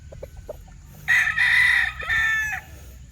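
A young gamecock (stag) crows once nearby, a raspy, slightly broken cock-a-doodle-doo in two strained phrases, preceded by a few soft clucks.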